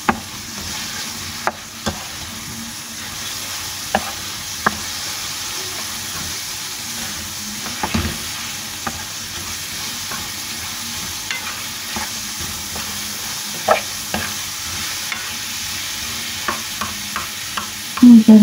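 Alexandrian-style liver frying in oil in a pan and being stirred, a steady sizzle broken by scattered sharp scrapes and clicks of the utensil against the pan, loud and close.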